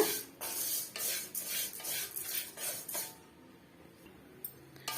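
Semiya and other ingredients are dry-roasted in a pan while being stirred, with a spoon or spatula scraping and clinking against the metal in quick strokes before the activity fades to quiet.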